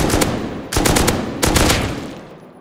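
Automatic gunfire in the survival game Rust, three rapid bursts of shots fired close and loud, each trailing off, with no talk.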